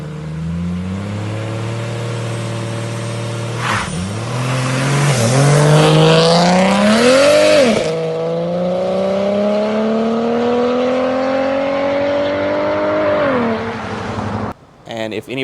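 A 2008 BMW 335i E92 with an LT V8 swap revs loudly up and down, close by, its pitch climbing and falling through several sweeps before cutting off at the end.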